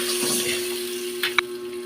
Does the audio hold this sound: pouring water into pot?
yes